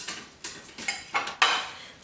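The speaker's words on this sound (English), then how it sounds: "let me start preparing the paste by chopping some garlic and onion." A knife on a cutting board taps out four or five close, uneven knocks and scrapes while garlic and onion are chopped, with no talking.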